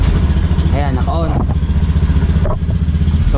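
A Honda BEAT FI motorcycle engine idles with a steady low rumble throughout, while someone talks over it close by.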